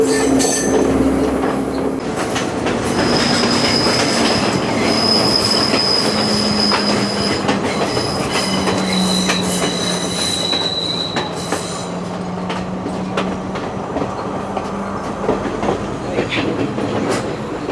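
Ella Odyssey train rolling through tunnels in Sri Lanka's tea country, a steady loud rumble of wheels on rails with long squealing tones and metallic clatter running throughout.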